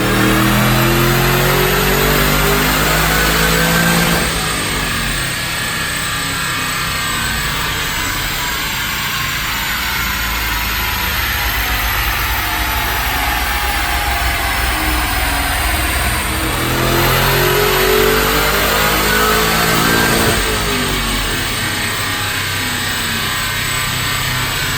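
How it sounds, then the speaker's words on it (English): A 2008 Mustang with a manual gearbox and an Edelbrock E-Force Stage Zero supercharger runs on 93 octane on a dyno, its engine roaring loud and steady through two rising full-throttle pulls with a whine climbing over it. "I'm going to make a couple Dyno pulls"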